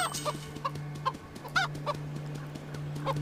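A chicken clucks in Mini Ninjas in several short, close bursts over a steady low hum.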